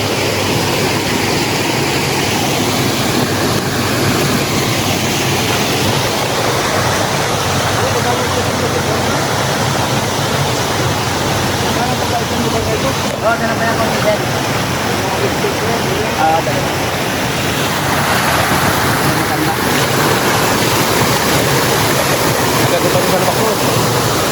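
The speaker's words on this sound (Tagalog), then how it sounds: "And as you can see, ito na yung falls natin." A waterfall on a rural property in Calauag, Quezon, roars as a steady, loud broadband rush of falling water that fills the whole stretch without pause.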